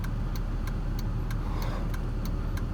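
Inside a 2003 Audi A6 Quattro with a 3.0 V6 cruising at highway speed, a loud constant engine and road roar with a regular, evenly spaced ticking running through it, no voices.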